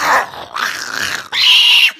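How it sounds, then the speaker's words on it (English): Dog growling in three short bursts, close and loud, each rising into a whiny snarl, the last one higher and tenser before cutting off. "Get your fucking dog, bitch. It don't bite."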